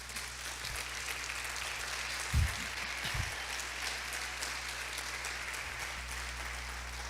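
Steady applause from a large crowd at a church convention, a dense even patter of clapping that continues throughout with a few low thumps.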